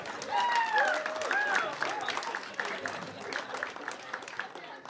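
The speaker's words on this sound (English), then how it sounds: "Clap it up for Peggy" Crowd applause for a contestant at a comedy competition, scattered claps under cheering and excited voices, moderately loud and thinning toward the end.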